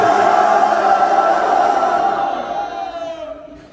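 A church congregation shouting a loud collective cry together, a sustained massed roar of many voices that holds steady and then fades away toward the end.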